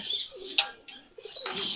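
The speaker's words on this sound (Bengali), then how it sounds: "কবুতরগুলো ছেড়ে দিচ্ছি।" Birdsong-like calls with soft pigeon coos in the background as pigeons are let out after rain, a brief flutter near the middle, no voices.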